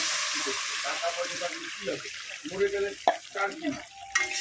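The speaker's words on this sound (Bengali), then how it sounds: "এতে এবার জল দিয়ে দেবো, পরিমাণ মতো জল দিয়ে দেবো" Water goes into hot fried masala for a Vola fish curry, a close bubbling sizzle with stirring and a few sharp clinks, while a voice talks over it.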